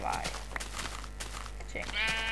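Sheep bleat in Minecraft, a few short wavering calls heard close by over a constant low hum, with a brief bleat near the start and another toward the end.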